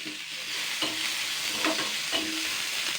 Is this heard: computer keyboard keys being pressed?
no